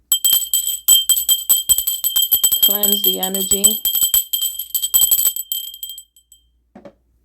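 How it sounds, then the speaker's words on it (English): A small hand bell rings rapidly and brightly for about six seconds, its clatter loud and near, then fades away. Someone briefly speaks partway through. "Let me go ahead and ring my bell."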